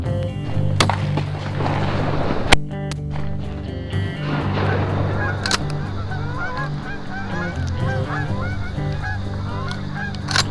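Geese honk repeatedly, several birds calling over one another in a busy, overlapping chorus with a few sharp knocks in between.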